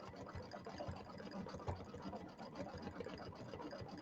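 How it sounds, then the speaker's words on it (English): An embroidery machine stitches dense satin stitching on a quilted table topper, giving a steady, continuous mechanical whir with rapid needle patter that runs unbroken throughout at moderate volume. "So these do take a few minutes to stitch out because they have quite a lot of satin stitching"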